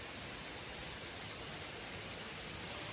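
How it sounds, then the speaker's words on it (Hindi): Steady rain falls throughout, a dense continuous hiss of drops hitting surfaces outdoors near a rose bush, even and unbroken with no voices. "लेकिन बारिश तो होने लगा।"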